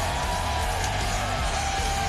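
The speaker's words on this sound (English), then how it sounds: "Great crowd on hand here in Indiana." A wrestling arena crowd in Indiana cheers and yells in a loud, continuous roar of voices.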